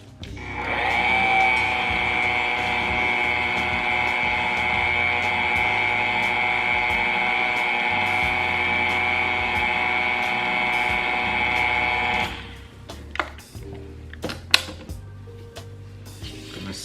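An electric mixer beats vanilla pound cake batter on low speed, giving a steady, close motor whine for about twelve seconds before it switches off. Scattered clinks and scrapes of the bowl follow.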